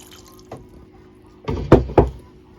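Cold water poured over nettles in a cooking pot, a short splashing pour that builds to a few loud gushing bursts near the end after a quiet start.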